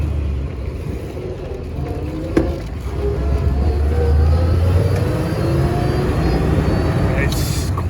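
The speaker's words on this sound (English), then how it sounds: "Quiet synchromesh transmission." A 1931 LaSalle Touring drives along with a quiet synchromesh transmission, giving a steady low engine rumble that builds slightly partway through while a voice talks over it.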